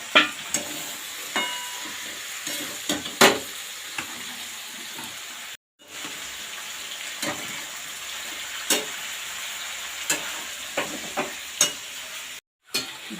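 Fried vegetables with mustard paste sizzling in a pan, a steady close fry broken by repeated scraping stirs and knocks, with two brief silent gaps, no talk.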